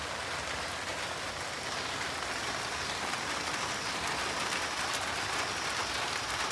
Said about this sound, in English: No se fue la lluvia.